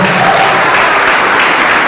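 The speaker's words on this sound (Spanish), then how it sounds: "aplauso fuerte, que se oiga, aplauso" Loud, dense applause from a church congregation, an unbroken roar of clapping with no gaps.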